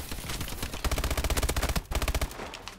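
An MP11 submachine gun fires rapid full-auto bursts in Call of Duty: Advanced Warfare, a tight rattling stream of shots. It has a brief break in the middle and then another burst, loud and close, with no talking.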